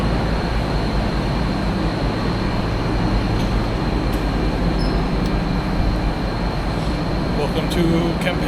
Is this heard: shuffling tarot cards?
no